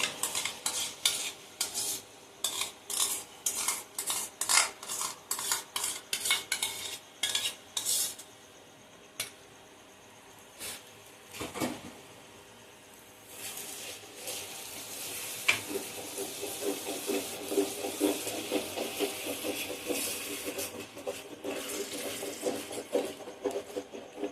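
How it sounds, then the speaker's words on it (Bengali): A spoon stirring whisked yogurt into fish curry in a pan over medium-high flame, with rapid scraping clatter at first, then a steady frying sizzle and hiss, no voices. "অনবরত নাড়তে হবে, নাহলে কিন্তু দইটা ফেটে যাওয়ার সম্ভাবনা থাকে।"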